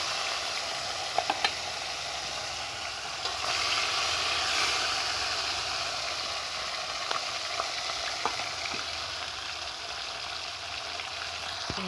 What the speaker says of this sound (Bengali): মাছের মুড়োগুলো ভাজছি।